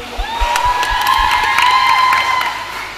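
A crowd at a secondary school graduation ceremony claps and cheers for a performer, with whoops and shouts rising over steady applause; a sustained high tone, like a held note or whistle, carries through most of it.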